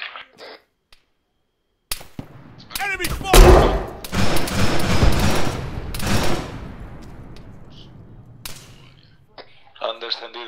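Bursts of rifle gunfire crack and rattle in ArmA 3 co-op combat, a sharp volley followed by sustained rapid shots that fade into sporadic reports, with voices talking between shots.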